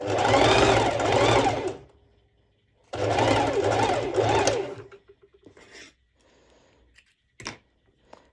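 A sewing machine runs a basting stitch on a long-sleeved festival crop top being lined, heard as two loud, steady whirring bursts of about two seconds each, followed by quieter handling noises.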